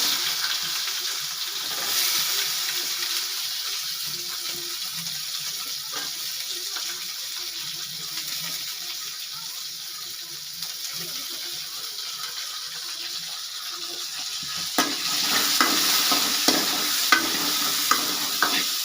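Onions, with dried red chillies, fry in a pan for idli sambar, giving a continuous, even sizzle with occasional soft stirring scrapes and a louder burst of frying near the end.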